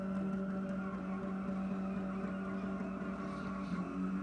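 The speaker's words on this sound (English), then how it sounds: "Well, definitely has no problem doing a burnout, that's for sure." Toyota Hilux doing a burnout at a race event, a loud continuous engine roar with sustained tire squeal holding steady throughout, close and alone.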